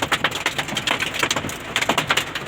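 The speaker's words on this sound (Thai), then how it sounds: "ตอนนี้ฝนตกอยู่ที่ลบบุรี มีลูกเห็บตกด้วยนะครับ" Heavy rain mixed with hail in Lopburi, Thailand: hard pattering hits as hailstones strike a surface in rapid, irregular bursts close to the microphone.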